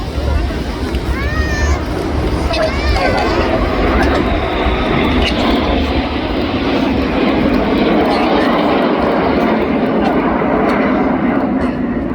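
Red Arrows jets fly in formation with smoke at the Blackpool Airshow 2025, a loud, steady jet-engine roar that fills the whole stretch while a voice talks over it.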